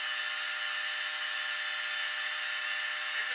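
A power tool fitted with a multi guide grinds a bevel in a steady, continuous high whir, loud and close, holding an even pitch with no talk.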